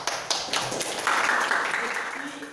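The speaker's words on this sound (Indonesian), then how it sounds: "Oke, beri aplaus." Students in a classroom religion lesson give brief, scattered clapping, a few sharp taps followed by a short patch of light applause, with voices mixed in.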